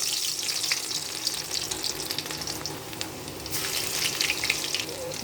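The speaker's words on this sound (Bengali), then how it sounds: "এই তেলের মধ্যে দিয়ে দেবো রসুন কুচি" Chopped garlic hits hot oil for a Bengali chilli egg dish, giving a steady broadband sizzle that carries through without a break and stays close and fairly loud.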